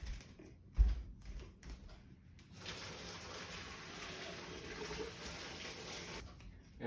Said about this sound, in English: you are going to drain all of the water out of the pasta.